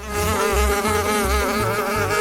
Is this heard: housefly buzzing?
yes